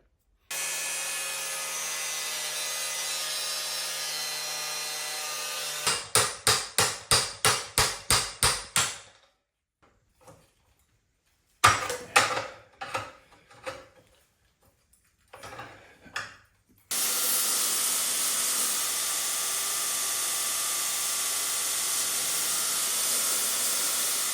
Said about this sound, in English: So time to grind and first look at what we've got inside.